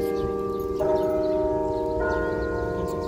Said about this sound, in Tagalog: inaantay lang namin yung ano tunog ng kampana